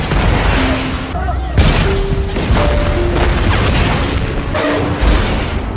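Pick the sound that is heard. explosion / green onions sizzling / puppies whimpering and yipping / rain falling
explosion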